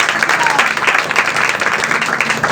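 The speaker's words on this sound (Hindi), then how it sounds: "जोर से ताली बजाएं।" A congregation at a Sunday Holy Communion worship meeting claps loudly and continuously, a thick wash of many hands with some voices mixed in.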